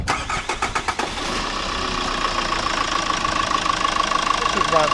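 A Hyundai Load 2010 2.5 litre CRDI turbo diesel with an EGR fault cranks over with rapid starter pulses, then catches and settles into a steady, loud, clattery diesel idle close by.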